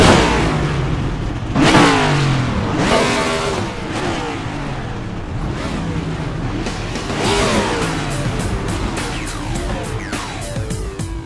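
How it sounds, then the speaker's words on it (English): Several race car engines in the iRacing sim at Dover Motor Speedway fire up and rev together, a loud continuous roar with repeated rising and falling revving sweeps and whooshes over about eleven seconds. "drivers, start your engines"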